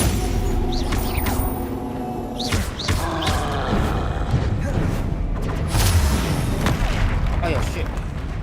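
Confringo blasting spells in Hogwarts Legacy on PS5 set off repeated booming explosions with heavy thuds and crackling debris, loud and close, mixed with other combat noise and a voice talking.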